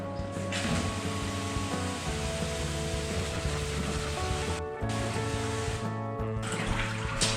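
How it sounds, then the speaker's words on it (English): Steady, loud rush of water rinsing disinfectant off electric-powered equipment, running almost continuously with two brief breaks, a constant motor-like hum beneath the spray. "The disinfectant has sat for a little bit, so now we can rinse it off"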